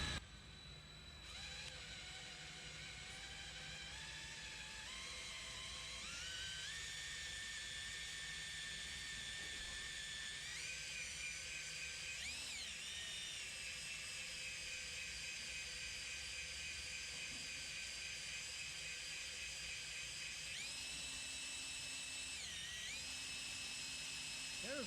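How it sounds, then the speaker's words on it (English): A steady electric drill whine runs continuously while priming the oil pump of a Ford 289 engine, pitch shifting slightly a few times, with a low mechanical hum underneath. "Let's get the drill back on here"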